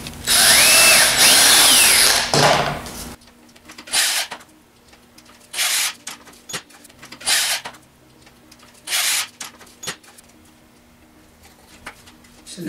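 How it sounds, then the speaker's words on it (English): A power drill boring holes into the wooden frame of a DIY kit canoe-kayak, several separate bursts of whirring near and loud, each a second or so long with pauses between, after an opening stretch of heavier noise. "You take your drill bit and drill"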